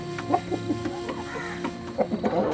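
Several free-range country chickens cluck close by in short, irregular bursts around a coop where one hen is sick, with a low steady hum in the background.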